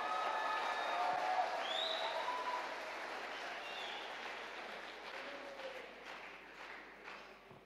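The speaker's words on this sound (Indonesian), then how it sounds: "Berikan dulu tepuk tangan yang paling meriah." Concert audience applauding at the opening of a Pesparawi farewell concert in Salatiga: a faint, dense wash of clapping that slowly thins and fades, with a few high whistle-like tones above it.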